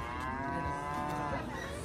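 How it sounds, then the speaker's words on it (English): Cattle on a ranch, steers in a grassy pasture, let out a long, drawn-out low moo that is moderately near and clear over quiet outdoor background. "Cows."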